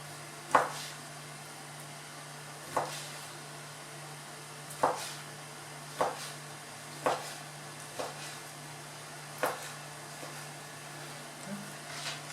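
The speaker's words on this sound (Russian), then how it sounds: "Нам нужно все это порезать такими брусочками. Поэтому я сначала режу вот так." A knife cuts chicken into strips on a board, giving sharp, separate knocks spaced about a second apart over a faint background hum, with no voices.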